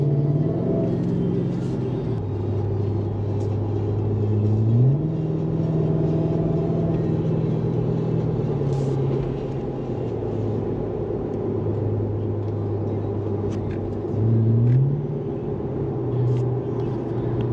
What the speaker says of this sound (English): So now I'm gonna show you what it sounds like inside and see the noise level of the muffler.